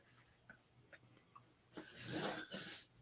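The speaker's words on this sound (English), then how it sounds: "So I do want to write on the back side." Pen scratching on the back of a chalk transfer sheet, faint short strokes at first, then two louder, longer scribbling bursts close up near the end.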